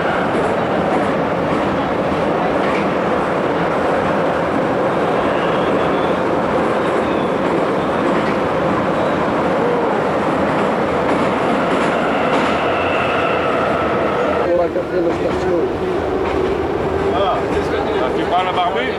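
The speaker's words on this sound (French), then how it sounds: "C'est dans le métro." A Moscow-area metro train rumbles along its track during a 1994 trip to Russia, a loud continuous roar with rattling wheels. Voices talk in the carriage over the noise, and the sound shifts in tone near the end.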